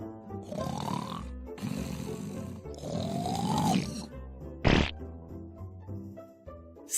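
A person snores loudly and close, three long rasping breaths in a steady rhythm, with a sharp brief noise and a low background hum between them.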